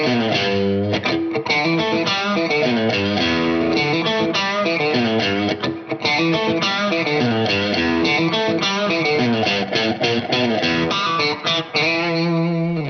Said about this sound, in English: this one is really led by the signature Strat tone